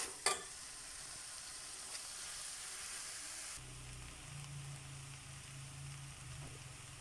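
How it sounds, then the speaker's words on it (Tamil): Koththu chapathi frying in a pan gives a quiet, steady sizzle, with faint stirring scrapes and a brief clink near the start. "சேர்த்துட்டு நல்லா கிளறி விடணும்."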